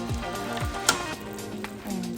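Beef steak pieces for Puerto Rican bistec encebollado hit a hot pan with a steady broadband sizzle, swelling briefly with a sharp crackle as meat lands, over faint background music.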